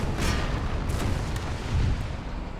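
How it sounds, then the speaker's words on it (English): A musket volley and artillery fire in the Empire: Total War video game, heavy rumbling booms with crackling bursts layered over one another, dense and thunderous across the whole stretch with no talk. "Oh, what a volley."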